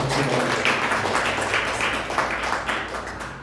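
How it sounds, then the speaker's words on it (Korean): Congregation at a Korean church in Mexico applauding newcomers being introduced during a service, a sustained round of clapping in a hall that tapers off toward the end. "박수로 한번"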